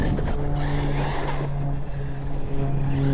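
A Hobao Hyper MTX RC truck runs at full throttle, a steady high-pitched motor whine with a low drone that holds loud and continuous throughout, with slight dips midway.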